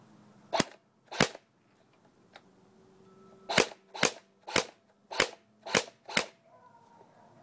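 A P90 airsoft gun fires on semi-auto, loud close single cracks: two shots, a pause, then six shots at a steady pace.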